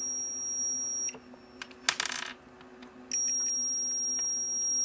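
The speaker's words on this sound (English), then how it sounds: "We got the piezo buzzer attached to the oscillator circuit." Piezo buzzer driven by a homemade oscillator circuit, a thin, high, steady electronic tone that cuts out briefly amid a clattering burst and then resumes louder and continuous.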